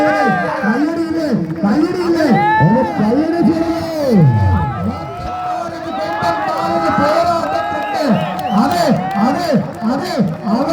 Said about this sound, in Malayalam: അതെ, അവർക്ക് കയ്യടി നൽകുക പ്രിയമുള്ളവരെ.